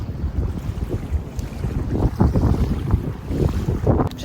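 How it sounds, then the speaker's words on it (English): Ocean at a beach heard as a steady broad wash of surf with gusting wind buffeting the microphone, fairly loud and continuous, with no talking. "Ocean behind me."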